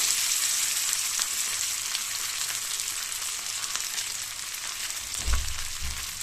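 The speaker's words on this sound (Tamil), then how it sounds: "இப்போ நல்லா வந்து எண்ணெய் வந்து சுட்டுருச்சா இப்போ மெதுவாக அப்படியே வந்து மீனை இறக்கி விட்டுருவோம்" Rock fish pieces coated in masala fry in hot oil, giving a steady bright sizzle and crackle throughout, with a couple of soft low thumps near the end as more fish goes into the pan.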